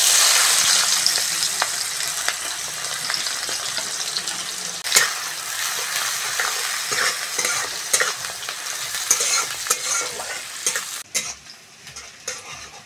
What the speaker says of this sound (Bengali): বন্ধুরা, ওই তেলের মধ্যে কুচনো পেঁয়াজ দিয়ে দেবো।